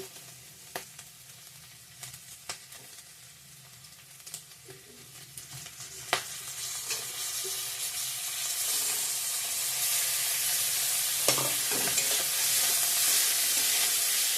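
Dried fish goes into hot oil with bay leaf, dried chilli, five-spice and chopped ginger. Faint scattered stirring clinks come first, then a hissing sizzle swells and stays loud and continuous to the end.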